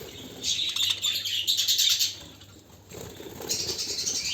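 Budgerigars chirp and twitter in a cage in bursts of bright, busy calls, close and fairly loud, with a brief lull midway.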